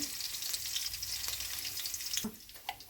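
Garlic fries in hot oil with cumin seeds, a close, steady crackling sizzle with a few clinks, easing slightly toward the end.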